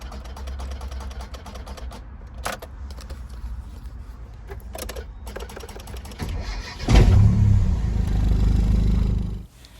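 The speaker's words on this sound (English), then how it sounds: "Sometimes it'll take 1 or 2 clicks and then it starts." A Mitsubishi Mighty Max pickup with a starting fault gives a series of irregular starter clicks, then cranks and catches into a loud, steady idle close by before cutting off abruptly. No one speaks.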